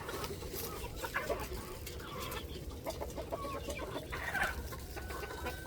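Chickens clucking in a backyard pen that holds a Salmon Faverolles chick among others, soft scattered clucks and calls over a steady, noisy outdoor background, with no talking.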